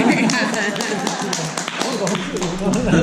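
A room of attendees at a neighborhood council board meeting claps in a dense, steady round of applause, loud and close throughout, with voices mixed in.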